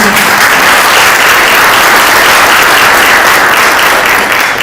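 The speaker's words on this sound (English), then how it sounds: "A huge round of applause for him." Loud, sustained applause from an audience at a book launch event, dense clapping that fills the room at a steady level throughout.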